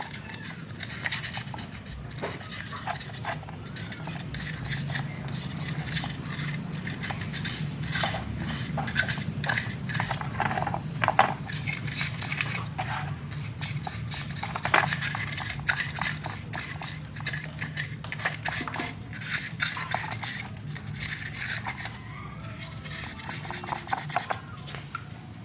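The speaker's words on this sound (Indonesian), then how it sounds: "sikat menggunakan amplas" Sandpaper rubbing and scrubbing carbon deposits off an engine valve seat, a steady close rasping scrape with irregular strokes running throughout, alone without talk.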